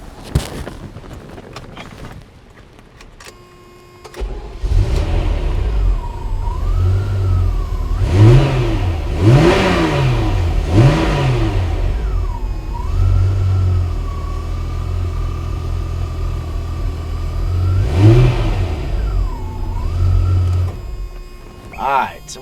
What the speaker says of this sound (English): I'll give you a quick startup here of how it sounds when I first crank the car.